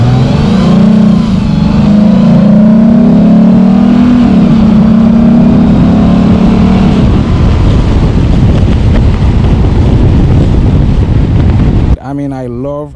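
A Lexus IS350 fitted with an F Sport air intake revs loudly and close, a rising engine drone with a strong low-end roar and intake whoosh, wind buffeting over it, ending abruptly in a short different tone.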